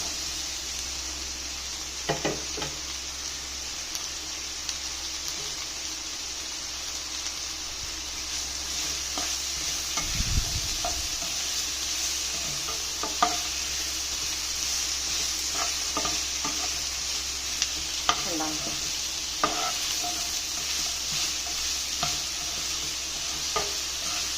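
Okra frying and being stirred in a hot pan for a Kerala-style vendakka thoran, a steady close sizzle broken by intermittent scraping stirs, with no talking.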